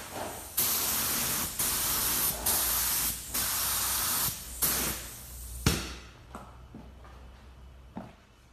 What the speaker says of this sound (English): That's just a little 1mm HVLP gun.